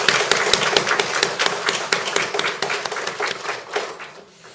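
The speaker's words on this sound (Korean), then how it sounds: "응원의 박수 한번 보내주시면 감사하겠습니다" A congregation at a Chuncheon Won Buddhist temple service claps together in dense, steady applause that thins and fades near the end.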